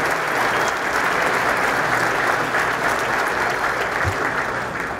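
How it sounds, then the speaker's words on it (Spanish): A crowd at a senator's public event in Tabasco breaks into loud, sustained applause, dense and even throughout, with no talk over it. "Un fuerte aplauso para todos ustedes."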